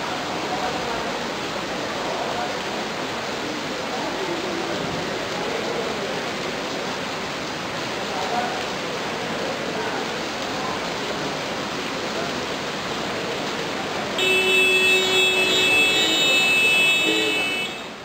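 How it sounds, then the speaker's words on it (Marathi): Heavy pre-monsoon downpour over Belgaum city, a steady dense hiss of rain running unbroken and fairly loud, swelling a little near the end, with no voices heard. "दुपारी चारच्या सुमारास पावसाची हलकी सुरुवात झाली पाचच्या सुमारास जोरदार मारा सुरू झाला"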